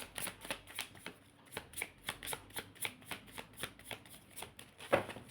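A deck of cards is shuffled repeatedly up close, producing a regular series of crisp riffling bursts about twice a second, with a sharper snap near the end, fairly quiet and alone.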